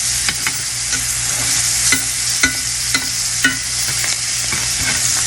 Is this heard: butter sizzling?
yes